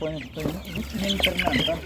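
Hens cluck in short bursts close by, mixed with people talking and general market bustle at a village animal market near Ivano-Frankivsk, Ukraine.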